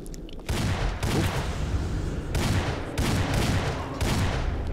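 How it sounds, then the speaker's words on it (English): Gunfire in Fallout 3 crackles in dense overlapping volleys, a sustained, fairly loud fusillade of shots and booms that keeps pulsing without a break. "Somebody's shooting at something."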